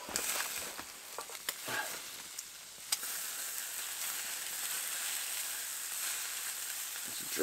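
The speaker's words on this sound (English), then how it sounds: "my bacon's flaming, flaming bacon" Bacon strips frying and flaring up in a pan over a campfire in a woodland fort, a constant bright sizzle and crackle with occasional pops and stirring scrapes.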